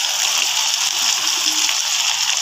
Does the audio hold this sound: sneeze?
no